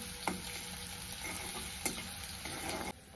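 Finely chopped garlic and four chillies fry in oil in a pan, with a steady close sizzle, occasional crackles and soft stirring scrapes, and no talking.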